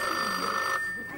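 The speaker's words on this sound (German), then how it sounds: "Das Telefon." A telephone bell rings, a steady shrill electric tone that holds for most of a second and then cuts off, alone and moderately loud.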